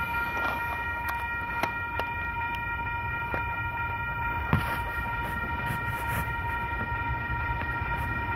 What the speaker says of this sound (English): Have a central via the North Shore service about to pass through platform number one.